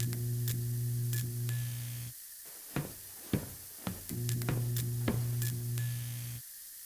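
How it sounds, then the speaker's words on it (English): Hissing icy mist from a burst nitrogen pipe in the game Monolith comes in steady broadband spurts with an underlying hum, interrupted by brief gaps and a few sharp knocks, moderately loud. "The nitrogen pipe has burst and the mist coming out of it is icy cold."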